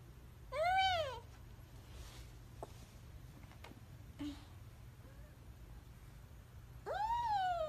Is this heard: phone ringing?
no